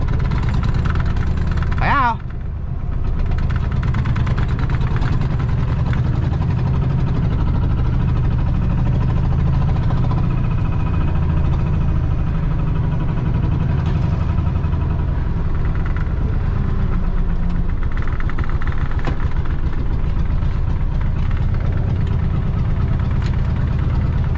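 A motorcycle engine idles steadily during a pre-ride check, and the gearbox is said to feel stiff. A loud, continuous low rumble with vibration holds throughout, with a brief mechanical squeal near the start.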